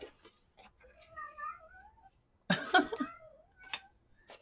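A house cat meows several times, rising and falling wavering cries that are faint and close, with a louder burst of voice and rustling midway and soft background noise.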